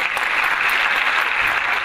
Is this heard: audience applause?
yes